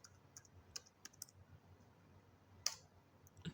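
Typing on a computer keyboard while entering an order into a restaurant ordering program: a handful of light, quiet key clicks in uneven bursts, close by in a quiet room.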